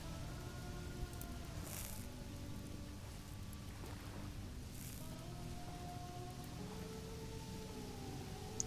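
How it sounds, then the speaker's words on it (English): Rain patters steadily and faintly on surfaces in a block-building survival game, a soft continuous wash with light tonal hums and occasional drops, no talk. "that's the sound of raindrops"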